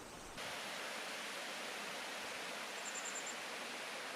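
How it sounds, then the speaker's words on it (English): A waterfall at Monknash Beach on the Welsh Jurassic Coast roars in a steady, dense, hissing wash of falling water that fills the clip without pause and with no voices. "came across this beautiful waterfall"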